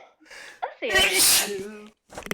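A single loud, close human sneeze with a sharp intake of breath before the burst, followed by a brief faint noise.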